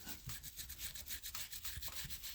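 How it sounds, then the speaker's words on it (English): Round wire brush scrubbing a part on a Suzuki RL250 motorcycle under restoration, heard as a close, quiet, repeated back-and-forth scratching in short uneven strokes. "And now I'm going in here with this round wire brush,"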